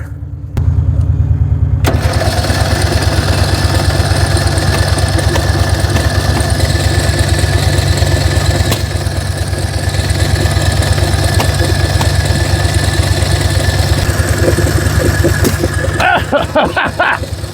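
A budget mudding lawn mower engine with a newly fitted carburetor starts after a short pause and runs loud and steady for a long stretch, with a rough, throbbing idle close by.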